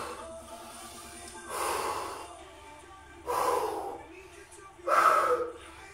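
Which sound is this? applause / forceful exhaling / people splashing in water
forceful exhaling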